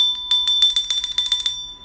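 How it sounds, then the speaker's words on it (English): A small hand bell is rung rapidly, a quick series of bright metallic dings close by with no talking. "Got to ring the bell for an auto."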